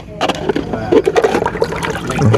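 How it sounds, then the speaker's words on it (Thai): A cup being washed under running water, a short splashy burst of flowing, trickling water with clinks and knocks of the cup, close and fairly loud. "ล้างถ้วยก่อน"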